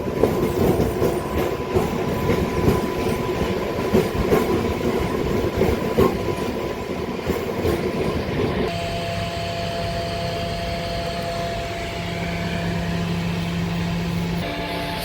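A local MEMU passenger train departs Ramanapeta railway station on the Hyderabad–Vijayawada line with a loud continuous rumble and clattering wheels, then settles into a steadier, smoother hum with faint tonal whine, heard from inside the carriage without talk.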